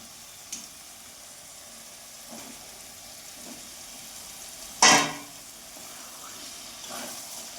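Marinated chicken going into hot oil for chicken rezala, giving a faint, steady sizzle with a sharp clatter near the five-second mark and a few soft stirring scrapes.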